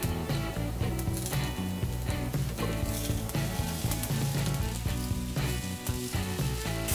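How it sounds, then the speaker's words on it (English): Apples grill in a hot pan with a continuous close sizzle, mixed with louder background sound that has a rhythmic, musical character. "Now you can use the same pan to grill apples."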